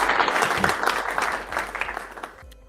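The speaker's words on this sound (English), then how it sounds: "A round of applause for Jamie." A burst of applause from a small group, many hands clapping quickly, then fading out toward the end.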